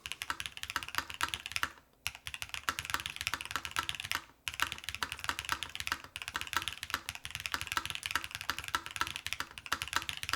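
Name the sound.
typing on a Lotus80 mechanical keyboard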